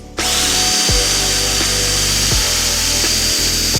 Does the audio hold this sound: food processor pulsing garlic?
no